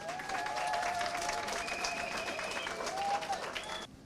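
A church congregation applauds during a Sunday service at a temple dedication, a dense continuous clatter of many hands filling the room with sustained voices and tones mixed underneath, fading near the end.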